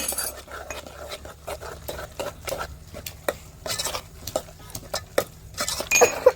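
Roasted eggplant mash for ringan no oro being mixed in a pot, a steady run of soft scraping strokes and light metallic clinks of a spoon against the vessel, close and moderately loud with no talk.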